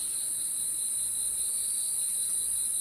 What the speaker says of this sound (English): I need to insert crickets there because I don't know what to say